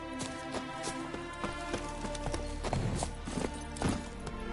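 Roach the horse gallops in The Witcher 3, hooves clip-clopping in a steady rapid rhythm, close and clear, with a few heavier thuds.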